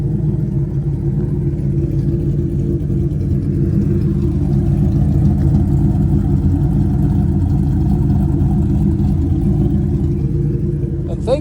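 A car being readied for the Street Machine Nationals idles close by, giving a steady, unbroken low rumble for the whole stretch.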